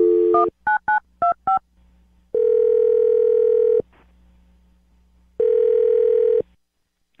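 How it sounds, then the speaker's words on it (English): Quick sequence of touch-tone beeps as a number is dialed, followed by two long steady ringback tones with a pause between, clear and close. "I'm going to dial his phone number right now."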